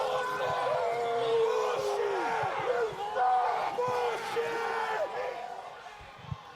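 Home crowd at a Wamego high school football game cheers and shouts in a broad, rolling roar from the stands, rising and dipping, with voices and whoops mixed in.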